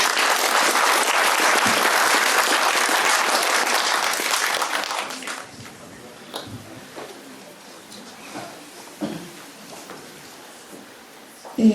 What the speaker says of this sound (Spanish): a quien recibimos con un fuerte voto de aplauso